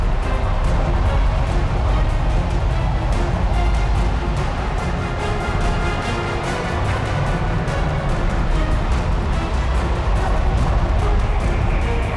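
The blast wave from an asteroid impact, heard as a loud, continuous roaring rumble that holds steady for its whole length without separate bursts.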